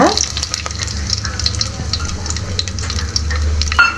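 Whole spices such as star anise crackle and sizzle in about 100 ml of hot oil for mutton biryani, a loud, steady frying hiss with a low rumble running throughout, close and without talking.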